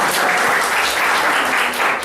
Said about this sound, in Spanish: un aplauso para sus compañeros